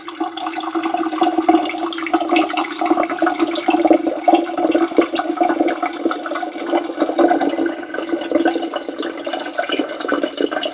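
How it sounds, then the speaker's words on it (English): Water is poured into a Hamilton Beach Scandi Collection 1.7-litre, 3 kW electric kettle, making a steady rushing, splashing stream close by that runs unbroken for several seconds with no talking. "pour in some water in here"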